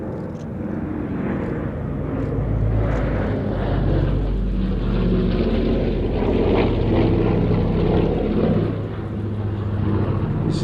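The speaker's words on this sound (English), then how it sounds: "This is a larger pressurized version of the DC-4, or the C-54 as it was known to the military" A pressurized propeller airliner derived from the DC-4 (C-54) flies past at an air show, its engines a loud, steady rumbling drone that holds throughout with a slight rise and fall.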